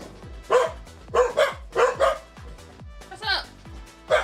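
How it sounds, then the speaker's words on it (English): Dogs barking next door, a series of sharp, fairly close barks and yips in quick bursts, with a few whimpering notes between them. "So the dogs naturally start barking at everything."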